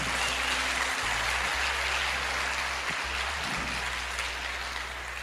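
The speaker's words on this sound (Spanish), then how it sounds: "Demos un aplauso al Señor porque tenemos evangelistas" A church congregation claps together in sustained, dense applause that fills the room evenly from start to finish, with no speech over it.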